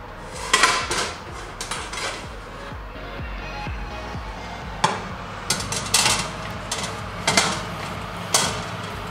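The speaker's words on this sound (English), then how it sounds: "So let's get this into the oven." The back of a metal baking tray holding a tortilla pizza going into an oven, with a series of sharp metallic clanks and scrapes, several loud close knocks spaced irregularly over a quiet room background.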